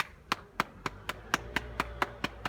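Exercise class participants applaud themselves after an abs and glutes workout: about nine sharp, evenly spaced claps over a low room hum, fairly close and moderately loud.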